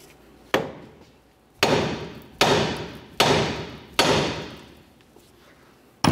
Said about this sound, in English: cause some vibration to try to break the tie rod end stud free from the knuckle